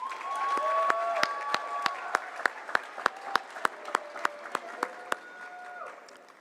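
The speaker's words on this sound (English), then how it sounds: "So let's give our AB Honor Roll students another round of applause." An audience at a senior awards ceremony applauds honor roll students, with steady clapping and sharp, regular claps standing out near the microphone while a sustained tone and faint voices carry underneath.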